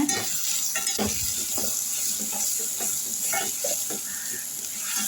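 Onions sautéed with rock salt in a pan for sambar, giving a steady, close sizzle with scattered stirring scrapes throughout, no voices.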